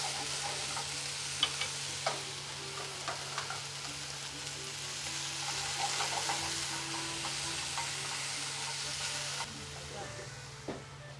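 Eggplant frying in a pan gives a steady, moderately quiet sizzling hiss over a low hum, with occasional soft clicks and stirring sounds and faint talk in the background.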